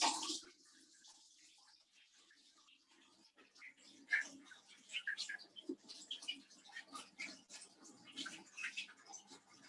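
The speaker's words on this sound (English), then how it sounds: "let me just wash my hands." Hands are washed under running tap water: a soft, continuous splash and trickle, fairly faint, with a brief louder rush at the start and uneven splashing as the hands move through the stream.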